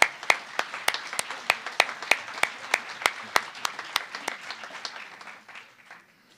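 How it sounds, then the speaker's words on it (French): Applause for award winners at an insertion awards ceremony, a thin scatter of rhythmic claps with a few distinct sharp hand claps standing out, tapering off and fading toward the end. "Je vais vous laisser encore les applaudir"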